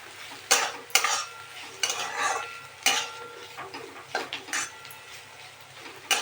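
Hot tempering hits a pot of dal, making sharp bursts of sizzle mixed with metal clinks and scraping as the ladle stirs, in uneven, close, moderately loud strokes.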